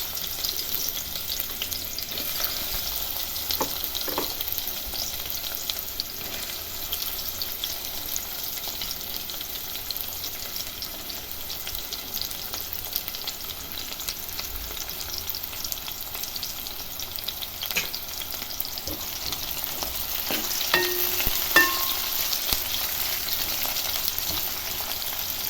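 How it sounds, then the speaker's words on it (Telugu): Onions frying in hot oil in a pan, a constant soft sizzle with occasional scraping and stirring clicks, close and steady throughout. "ఇది హీట్ అవ్వగానే ఆనియన్స్ వేసేద్దాం ఫస్ట్."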